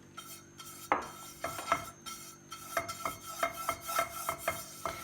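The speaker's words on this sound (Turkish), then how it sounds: "sıvı yağımızı tavamıza fırça yardımıyla yediriyoruz" Oil brushed onto a frying pan for pancakes, a series of soft scraping, rubbing strokes with light metallic clicks, fairly quiet and close, in an irregular rhythm with no talking.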